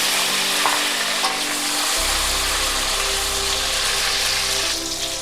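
Chopped tomatoes hitting hot oil with cumin, a bay leaf and two dried chilies, a loud continuous sizzle with stirring scrapes, a low hum joining partway through.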